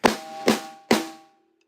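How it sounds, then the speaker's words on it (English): Three sharp snare drum hits ring out alone, evenly spaced about half a second apart, each with a bright crack and short rattling decay. "How does your snare sound? It sounds like this."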